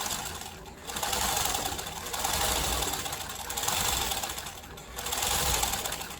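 A sewing machine stitches a gingham baby diaper, turning at a corner, in a steady whirring run that swells and eases in repeated bursts, close and alone.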